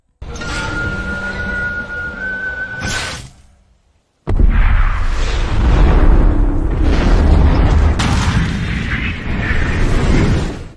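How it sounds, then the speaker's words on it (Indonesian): A sudden massive factory explosion bursts in after a brief silence, followed by a long roaring, rumbling wash of debris and crackling noise. "terjadilah sebuah ledakan yang diakibatkan dari pabrik tersebut"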